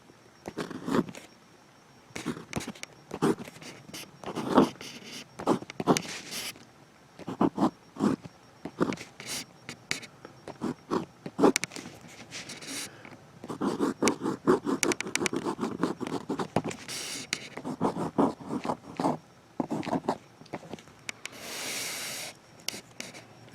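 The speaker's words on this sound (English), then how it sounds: "Let's take a look at some close-up writing. See the nib in action." A fountain pen nib scratches across paper in close-up, with irregular strokes and rapid scraping bursts that stop and start in a steady writing rhythm and carry on for about twenty seconds without talk.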